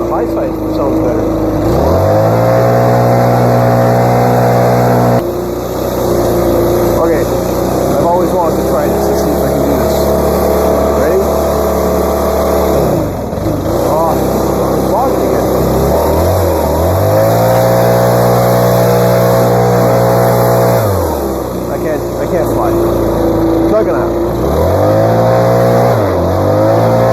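A Stihl BR 600 backpack blower engine runs loud and close during a tune-up, holding a steady high whine that dips and climbs again several times as the throttle is adjusted, with no talk over it.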